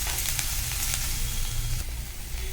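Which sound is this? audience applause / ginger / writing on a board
ginger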